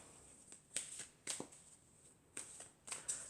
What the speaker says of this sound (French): Alors, je vais tirer 4 cartes.